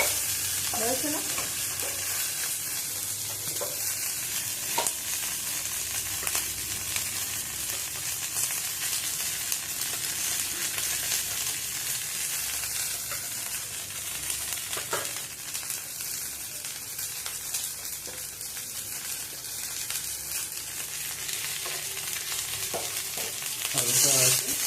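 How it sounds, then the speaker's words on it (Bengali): Semolina masala for idli frying in a pan, a dense steady sizzle running throughout with occasional scraping stirs, close and fairly loud, no voices. "একটু ফ্রাই করতে হবে।"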